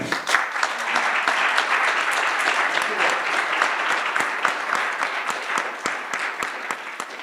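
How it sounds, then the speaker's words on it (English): Audience applause at a law conference session on the Louisiana Civil Code bicentennial: dense, steady clapping close by for the whole stretch, with sharper individual claps standing out from the wash. "Audience, time to applaud for our players."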